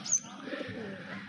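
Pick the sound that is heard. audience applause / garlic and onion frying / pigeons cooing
pigeons cooing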